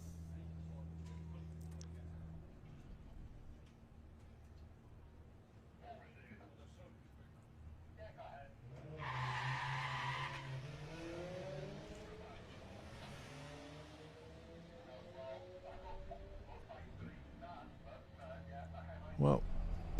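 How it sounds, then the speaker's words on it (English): Drag race car spinning its wheels off the start line at the Santa Pod Greenlight Nationals, a distant engine rising in pitch through a roaring launch, heard under steady commentary. "big wheel spin off the line for Reese"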